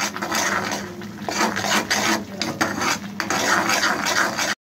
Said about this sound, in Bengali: এখন আমি এটাকে ভালো করে ভেজে নিব।